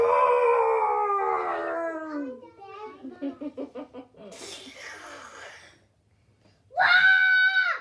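A storyteller's voice imitates a lion's roar, delivered very loud, as a burst of strained vocal sound after other voiced sounds, with a few soft syllables and quiet between.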